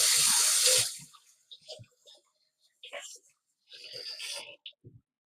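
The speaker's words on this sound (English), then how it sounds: "Let me wash my hands again." Kitchen tap water gushing briefly and loudly at the start while hands are washed during Jamaican-style fish frying, then cutting off as a person talks over scattered clinks and movement.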